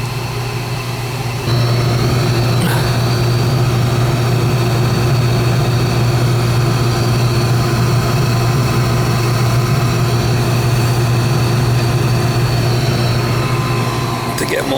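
A propane gas furnace burner running steadily just after ignition, following a replaced gas valve: a continuous low roar with a strong steady hum, starting abruptly after a brief quieter moment and holding constant throughout.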